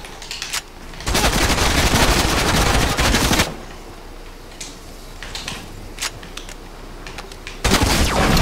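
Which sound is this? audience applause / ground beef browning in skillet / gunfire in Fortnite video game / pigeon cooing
gunfire in Fortnite video game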